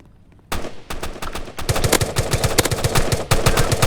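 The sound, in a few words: machine gun firing in Roblox video game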